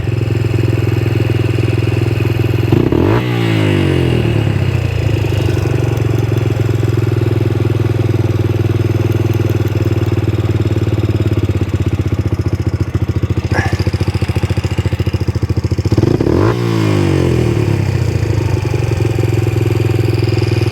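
A Yamaha Raptor 125 ATV with a fault that gives it a very high idle and makes it bog down holds a loud, steady idle close by, broken by two sharp rev bursts that sag back down.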